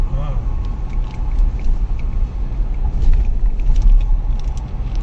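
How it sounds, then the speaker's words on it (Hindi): A Mahindra Scorpio N Z6 SUV engine runs in Zap drive mode, giving a loud, continuous low rumble from inside the cabin, with a voice faintly present beneath it. "गाड़ी की आवाज ही चेंज हो जाती है।"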